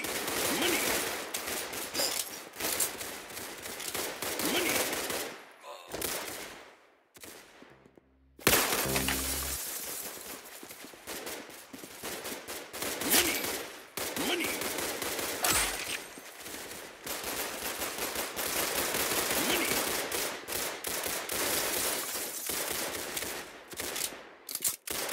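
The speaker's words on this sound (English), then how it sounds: "That's some beautiful shooting right there." Gunfire in the Roblox game Arsenal, dense rapid bursts of shots and shattering impacts almost nonstop, with a brief lull and a low thump midway, loud and close without speech.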